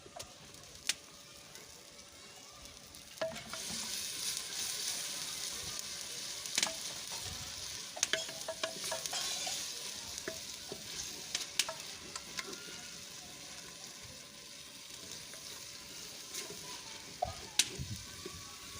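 Ground ginger and garlic paste sizzles in a hot pan for a mung dal, a soft steady frying hiss with occasional faint clicks and stirring taps, no talking.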